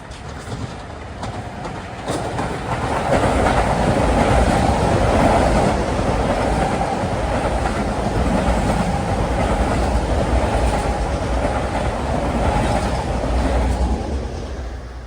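An LIRR commuter train bound from Ronkonkoma to Grand Central rolls through Queens Village station with a steady, loud rumble and rhythmic clatter of wheels, building after a couple of seconds and sustained to the end.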